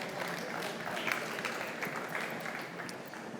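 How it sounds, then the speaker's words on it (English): An audience claps steadily to welcome a speaker at an agriculture technology event, a dense, even wash of applause at moderate level lasting throughout. "So give us a round of applause"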